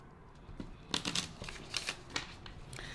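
Tarot cards are shuffled close by in a quiet room, a few short papery riffles and taps spread across the moment with soft pauses between them.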